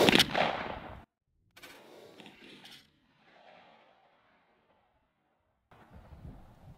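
A 20 gauge shotgun fitted with a Rectifire choke fires one loud, close blast right at the start, followed by a silent gap and then faint shuffling and handling noise.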